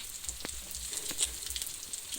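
Steady crackling sizzle of eggs frying in hot oil in a pan, with scattered pops over a constant hiss, close by.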